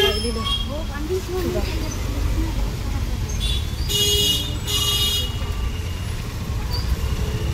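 Traffic rumbles along a busy road as buses and cars pass, and horns give short toots in the middle. A voice talks over the steady roadway noise.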